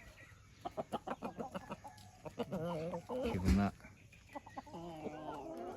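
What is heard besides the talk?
chickens clucking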